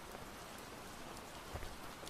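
Rain pours down in a video game scene, a steady hiss of drops with a brief heavier splash near the end, quiet and continuous with no talking.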